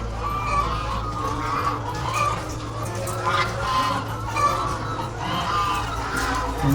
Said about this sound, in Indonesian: Ayamnya ayam petelur guys.